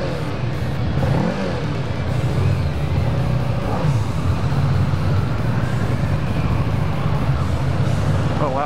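A Kawasaki Ninja 650 motorcycle engine hums steadily while riding at a demo day, a constant low drone mixed with wind noise throughout.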